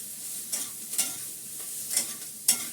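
Food sizzles steadily in a frying pan, with four sharp scraping clicks as it is stirred, close up and without any voices.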